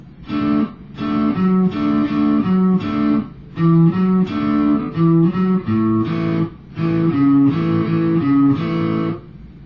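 Strummed guitar chords in a repeating riff with brief pauses between phrases, close and fairly loud, no voices.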